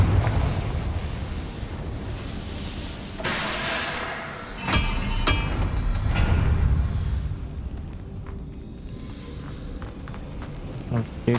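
A Confringo fire spell goes off in Hogwarts Legacy. A broad whooshing burst builds midway, followed by sharp cracking impacts, all over a rumbling game ambience.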